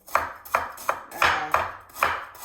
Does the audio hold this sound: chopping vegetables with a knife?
yes